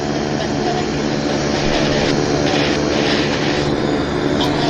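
An Air Canada Boeing 777-200 jet on Flight 34 to Toronto at Vancouver airport, giving a loud, steady broadband engine roar that holds evenly throughout with no talking.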